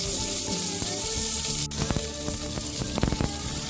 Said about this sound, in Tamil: நல்லா கொதித்து முடிச்ச பிறகு இறக்கிட்டு தாளிக்க போகிறோம்.